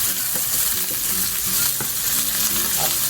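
Onions fry in a cooking pot with a constant, close sizzle and crackle, punctuated by a few light stirring knocks.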